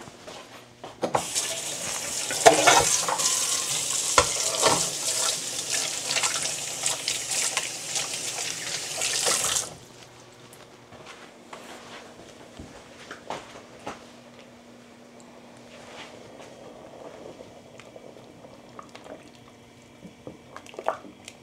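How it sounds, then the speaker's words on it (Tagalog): Clams go into a pot of boiling clam chowder with a loud burst of bubbling and splashing that lasts several seconds, then falls to a quieter simmer with scattered small clinks. "Pag kulong-kulo na, tsaka natin ilalagay yung clams."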